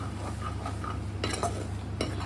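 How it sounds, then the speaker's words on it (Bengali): Flour is stirred into fried chopped garlic in a pan with a spoon, soft scraping and clinks over a low sizzle, close and quiet, no talking. "এবার এর মধ্যে আমি এক চামচ ময়দা মিশিয়ে নিচ্ছি"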